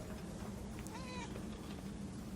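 A cat meows once in the video game Murdered: Soul Suspect, a short, faint, rising-and-falling cry over a steady low ambient hum and background noise.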